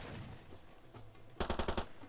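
Automatic rifle fire in Far Cry 2, a short rapid burst of about six loud shots in quick succession after a quieter stretch of game noise.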